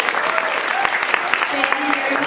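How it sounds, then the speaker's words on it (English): Audience applause at a comedy show, a steady crackle of many hands clapping throughout, with a voice speaking briefly over it. "let's give Alyssa a big round of applause"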